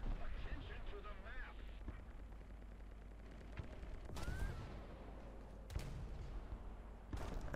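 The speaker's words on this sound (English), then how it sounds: "And there is artillery strike coming in." An artillery strike lands in War Thunder: dull distant booms and rumbling impacts roll over steady engine and battlefield noise, with a few sharper cracks standing out.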